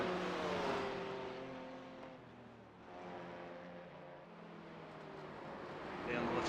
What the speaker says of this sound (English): Car sounds like shit. So ugly.